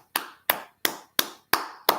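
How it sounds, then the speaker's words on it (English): Six crisp hand claps in a slow, fairly even rhythm, each a sharp, close, isolated smack with brief silence between, with no talking. "as I clap for my pikin"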